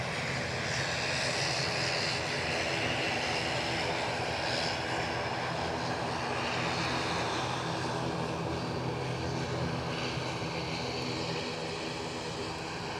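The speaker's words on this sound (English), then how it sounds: "Let's just show you the noisy ATR." An ATR turboprop aircraft at Edinburgh Airport, its engines giving a steady, loud droning hum with a throbbing low tone. The drone holds unbroken for over ten seconds and carries no speech.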